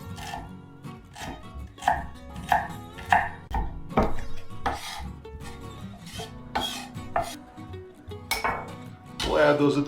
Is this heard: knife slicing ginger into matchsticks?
yes